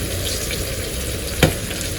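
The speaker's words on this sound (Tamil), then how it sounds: "கொதிச்சு வந்துருச்சு பாருங்க" Salted tamarind liquid at a rolling boil in a pot gives a dense, continuous bubbling hiss, close and even, with one brief clink partway through.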